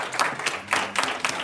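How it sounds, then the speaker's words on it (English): Audience applause at a lecture on Cuban socio-economic reforms, a steady wash of clapping from a seated crowd with a few louder swells, brief and moderately loud, with no voices over it. "Another round of applause for Professor Mesa-Lago, please."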